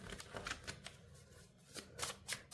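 A deck of tarot cards is shuffled in quiet, close, soft riffling bursts. The crisp flicks come in uneven clusters with short pauses between them.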